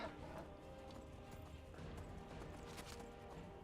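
A horse clip-clops faintly across the ground in the Skyrim video game during a fight with a giant, soft hooves under a low background rumble and game noise.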